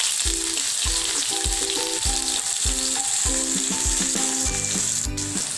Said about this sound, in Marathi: तेल आपलं छान गरम झालेलं आहे त्यामध्ये आपण मोहरी टाकून घेऊया जिरे घालायचे आहे बारीक चिरलेला कांदा टाकायचा आहे